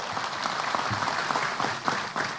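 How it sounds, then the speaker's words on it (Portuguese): Workers from Novo Nordisk and SAMU emergency medical staff receive a burst of applause from an audience at a public event in Brazil, dense clapping of many hands, moderately distant and continuous throughout. "Uma salva de palmas para os samuzeiros que estão aqui"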